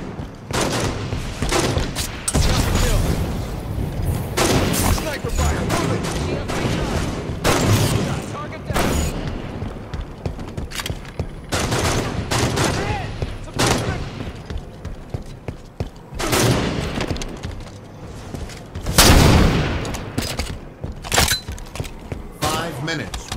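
Gunfire from a sniper rifle in the video game Halo 5: Guardians, heard as sharp loud shots and booms repeating across a busy multiplayer match, with game announcer voice lines mixed in.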